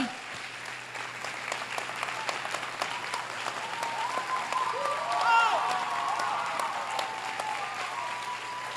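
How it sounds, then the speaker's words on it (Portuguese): A church conference congregation claps loudly for Jesus, a broad even patter of many hands under a faint held tone and some murmured voices, swelling slightly midway. "Vou dar um aplauso bem forte para Jesus aí."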